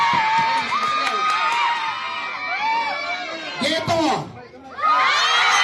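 A crowd of neighbors at an outdoor dance contest shouts, whoops and cheers continuously and loudly, with children's high yells, swelling again near the end while a voice speaks through it.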